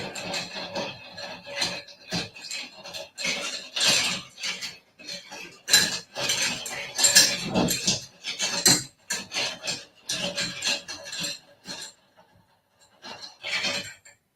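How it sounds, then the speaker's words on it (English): A drink with ice being stirred, bursts of clinking and rattling ice against glass with scraping of a utensil, irregular and close, with pauses between strokes. "All my ice. And we're going to stir."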